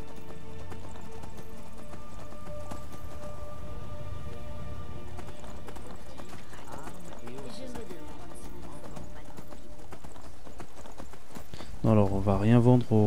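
Horse hooves clip-clopping in the video game Skyrim Special Edition, a steady rhythm under game music and talk, with a louder burst of sound near the end.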